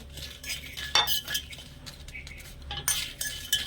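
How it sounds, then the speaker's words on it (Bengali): A spoon scrapes and rattles against whole spices such as cumin roasting in a dry metal pan in quick, uneven strokes, with light clinks and no talking. "শুকনো কড়াই একটুখানি নেড়ে চেড়ে ভালো করে ভেজে নেব"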